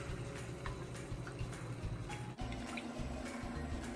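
Hondashi stock poured into a pot of Japanese-style beef curry, a steady liquid splash and gurgle close by, continuous for a few seconds with a brief break.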